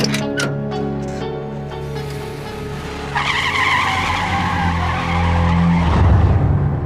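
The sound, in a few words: car tires skidding as a getaway car drives off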